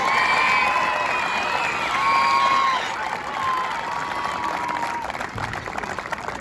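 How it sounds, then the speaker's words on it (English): Halftime honoring ceremony at a football stadium for Tony Romo: a big crowd applauds and cheers loudly and steadily, with whoops and shouts rising over the clapping throughout. "So give Steve Brezowitz a round of applause"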